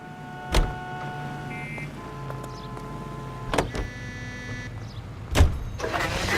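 Car in the L.A. Noire video game being driven, a quiet engine hum with a few sharp thumps and mechanical whirs, no voices.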